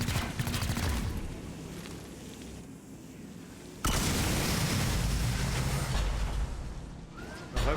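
Gunfire aimed at a Sectopod robot in XCOM Chimera Squad, rapid bursts and booming impacts in two loud blocks separated by a sudden cut, dense and close, with no speech.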